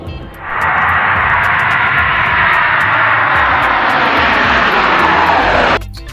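A loud airplane engine roars steadily for several seconds, a broad rushing drone that swells in and then cuts off abruptly.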